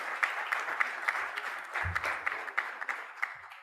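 Audience applause at a sports forum in Panama, moderate and steady, with a few sharper individual claps standing out across the burst.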